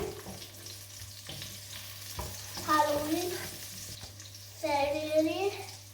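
Onions frying in oil in a pan for kare kare, a soft sizzle with scraping stir strokes, while a voice and another voice talk over it.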